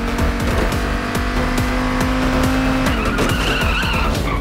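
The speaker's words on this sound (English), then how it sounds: "Now burn some rubber" Tires squeal and skid under a revving car engine during a car theft in the game Payday 2, a loud continuous screech with shifting engine pitch and no talking.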